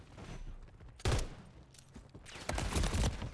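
Fortnite gunfire in sharp bursts, a burst at one second and a heavier, denser volley from two and a half seconds on, loud and close over a low game ambience.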